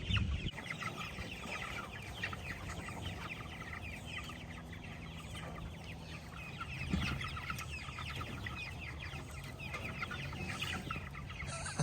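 A flock of about fifty backyard chickens clucks and murmurs steadily throughout, close and dense, with a brief louder squawk around the middle and no talk.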